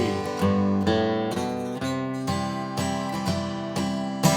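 An acoustic guitar plays strummed chords in a steady rhythm, then a short run of picked bass notes links to the next chord. No one speaks.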